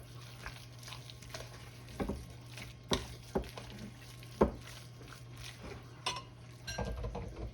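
A spoon stirs a brisket twice-baked potato filling seasoned with salt and pepper, producing soft, irregular scraping and clinking against a bowl over a steady low hum, quiet and close with no talking.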